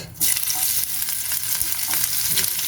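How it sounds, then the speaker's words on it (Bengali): Onions dropped into hot oil for a dried fish dish burst into a loud, steady sizzle close by, with light stirring scrapes throughout. "এখন আমি দিয়ে দিচ্ছি তাতে তোমার পেঁয়াজ"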